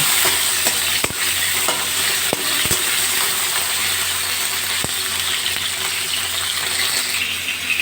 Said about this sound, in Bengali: গ্যাসের ফ্লেমটা বাড়িয়ে আমি পটলগুলো ভালো করে ভেজে নেব